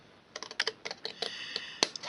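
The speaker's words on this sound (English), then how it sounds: "Now I'm going to come in with my scissors, and on this small square here I'm going to cut on the" Scissors snipping scored cardstock for a small gift box: a rapid run of about a dozen short, crisp cuts close up, fairly loud and uneven in rhythm.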